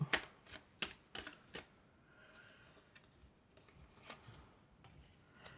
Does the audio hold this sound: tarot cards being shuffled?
yes